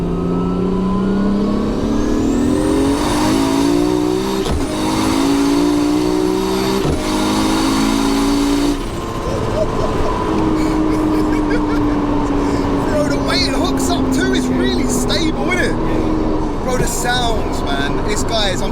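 A 1200 bhp Nissan Skyline R34 GT-R with a sequential gearbox revs hard and accelerates, loud and close, its engine note climbing through several shifts, with people talking and shouting over it.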